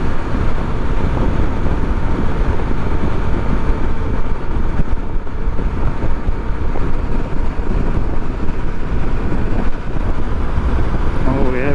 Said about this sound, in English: wind is kicking across these fields, open fields.